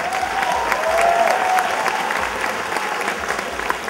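An audience applauding at a KVN comedy league show, dense and loud clapping that runs unbroken through the whole moment, with a brief tonal sound near the start.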